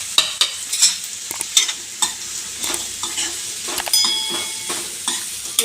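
Egg, chicken pieces and vegetables stir-fried for chicken fried rice, with a rapid series of spatula scrapes and knocks against the pan over a continuous loud sizzle, close up and without talk.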